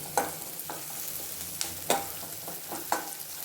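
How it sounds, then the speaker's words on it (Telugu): Onions frying with asafoetida in a pan give a quiet, steady sizzle, broken by a few sharp scraping knocks as they are stirred. "కొద్దిగా ఇంగు వేసుకుందాం వేపుకోవాలన్నమాట"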